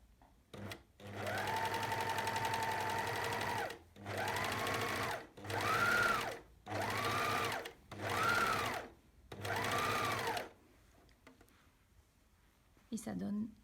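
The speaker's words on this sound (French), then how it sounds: "Vous réglez votre surjeteuse, puis vous allez surjeter le bord que vous avez coupé." A serger overlocks the cut edge of fabric for a simple cape in five loud, steady bursts of running motor and needle chatter, each a couple of seconds long and separated by short pauses, with nobody talking.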